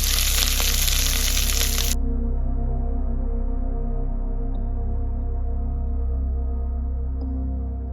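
Green chillies and onion frying in a pan, a loud steady sizzle with a bright hiss that drops sharply after two seconds, leaving a low continuous bubbling crackle.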